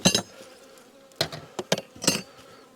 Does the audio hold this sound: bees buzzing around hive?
yes